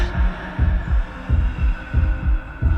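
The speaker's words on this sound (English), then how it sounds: "The heartbeat in the background." A loud, deep heartbeat effect from a Star Trek: Deep Space Nine episode throbs in steady double beats about every 0.65 seconds over a low hum, with no talk.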